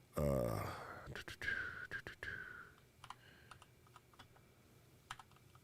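Keys on a computer keyboard are typed in short irregular bursts after an opening voice sound, with a few scattered clicks trailing off near the end; the keystrokes are moderately close and fairly quiet.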